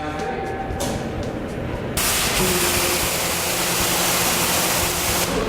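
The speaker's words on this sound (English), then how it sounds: "I'm gonna spray at the ground really just to evacuate some of the water out of the system" A steady, loud hiss of a pressure washer spraying water at the ground starts abruptly and roars on continuously, broad and unbroken.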